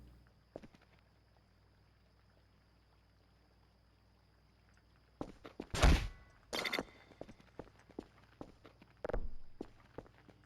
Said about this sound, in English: I swear to God, I just heard footsteps.